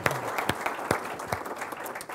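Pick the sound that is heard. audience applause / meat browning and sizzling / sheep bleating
audience applause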